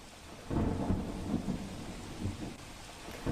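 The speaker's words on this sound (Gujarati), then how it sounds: "મહુવા શહેર અને તાલુકાના ગ્રામ્ય પંથકમાં વરસાદ વરસ્યો છે" Steady monsoon rain with low thunder rumbling throughout, close and fairly loud, with no voices, in Mahuva, Bhavnagar, Gujarat.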